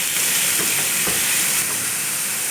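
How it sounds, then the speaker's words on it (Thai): Minced pork fries with garlic in a hot pan, a steady loud sizzle and hiss with a few faint stirring scrapes, and no voices. "เริ่มต้นด้วยหมูสับค่ะที่เราเตรียมไว้นะคะ นำลงผัดกับกระเทียม"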